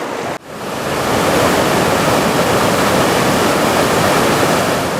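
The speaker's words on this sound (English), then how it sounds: "with the entire river being sucked into this chute, the force of the water was intense" Roaring class 6 whitewater rapid as an entire river is forced through a narrow chute, a loud, dense, continuous rush that swells up after a brief dip at the start and stays powerful with no voices.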